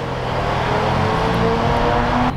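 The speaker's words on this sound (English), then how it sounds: "laying down some peels on the road." A modified R32 Nissan Skyline GTR on 17-inch Enki wheels with AP Racing front brakes pulls hard along a road, its engine droning loud and steady and rising slightly in pitch before cutting off abruptly.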